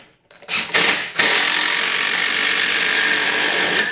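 A power drill drives a 3-inch deck screw into a deadbolt strike plate: a short buzzing burst, a brief pause, then a loud, sustained whine as the screw goes in, up close with no talking.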